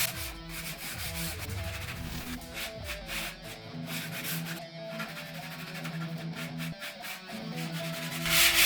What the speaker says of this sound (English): Then you will take your sandpaper and just finish smoothing it out.